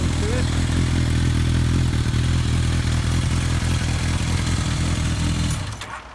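Kawasaki ZR1100 Zephyr motorcycle fitted with a Kerker 4-into-1 exhaust, running on a cold start with a loud, steady deep engine note close by that cuts off abruptly near the end.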